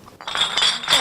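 Heavy glass bottles clink together as an elderly woman sorts them outside her home, a few bright ringing knocks close by in quick succession.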